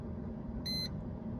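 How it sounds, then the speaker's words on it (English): A car's instrument cluster warning buzzer, triggered by an actuation test from a Kingbolen K8 bidirectional diagnostic tool, gives one short, clear electronic beep over a steady background hum. "It makes the cluster basically just beep."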